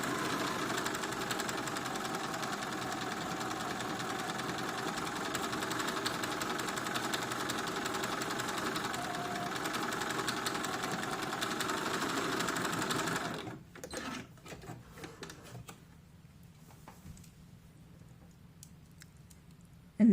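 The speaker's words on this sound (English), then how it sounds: "sew a stitch close to your previous stitch line" Home sewing machine runs a straight stitch along the seam of a small doll dress, a fast continuous mechanical whir for about thirteen seconds, then slowing to short stuttering bursts and stopping.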